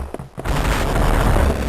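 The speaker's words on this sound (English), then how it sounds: "don't get alarmed by the explosion and footsteps that you may hear here" A few soft thumps lead into a loud, rumbling explosive roar from the Game Boy Advance game Metroid Fusion that fills the rest of the clip with dense, crackling noise.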